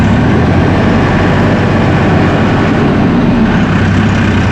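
A 2017 Mahindra 5570 utility tractor with a 70 hp engine runs close by, a loud, steady low diesel drone with a constant rumbling throb and no breaks.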